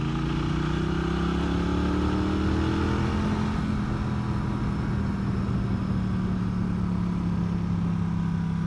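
A Norton Commando 961 CR motorcycle engine, flexible and torquey in an old-school way, pulls steadily under acceleration with a low, continuous drone and gently shifting pitch, close and loud throughout with no talking.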